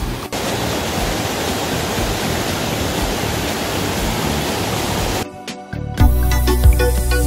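Clear mountain valley stream at Makdong Valley in Pyeongchang, Gangwon, flowing water rushing as a steady broadband hiss, close and continuous, then cut off briefly by clicks and handling noise before returning.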